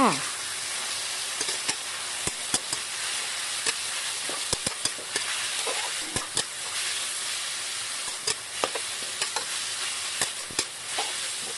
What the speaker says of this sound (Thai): ใส่ปลาหมึกแล้วก็หมูลงไป ขั้นตอนนี้ก็ จะผัดให้ทั้งสองอย่างสุกค่ะ